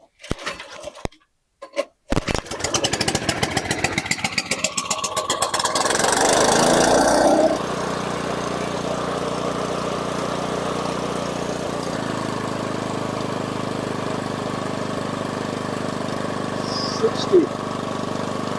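A small petrol engine, choke pulled, catches after a few pulls and settles into a loud, steady buzzing run, then drops to a lower, even idle.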